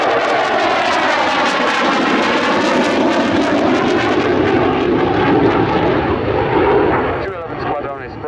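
A Saab Gripen jet fighter at an airshow, a loud continuous engine roar sweeping past and fading toward the end, with a commentator talking over it.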